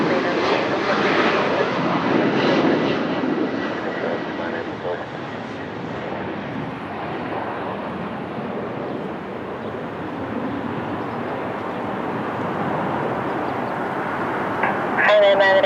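An Embraer 190 jet departing Lisbon Airport, a steady broadband engine roar that holds fairly constant, with faint speech mixed in and a brief tonal whine near the end.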